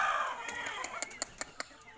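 Free-ranging backyard chickens and roosters in a small shared pen crow and cluck, with a drawn-out crow at the start followed by scattered sharp clucks and pecking-like clicks at moderate distance.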